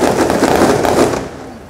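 Fireworks at the closing celebration of Negara city's 122nd anniversary crackle and burst in a dense, loud barrage of rapid pops that fades out near the end.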